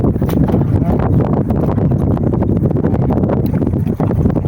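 Strong wind roars across open water from a fishing boat during net fishing, a dense continuous buffeting rush that batters the microphone throughout.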